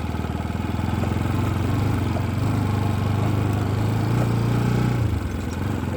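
Motorbike engine idling steadily close by on a roadside outing, a low even rumble with a slight rise in pitch near the end before it quickly cuts away to quieter background.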